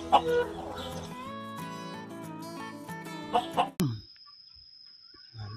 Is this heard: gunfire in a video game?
no